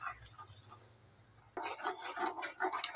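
Cocoa powder stirred into sugar syrup in a pan, with scraping, rubbing spoon strokes that start suddenly after a quiet opening and continue close and steady.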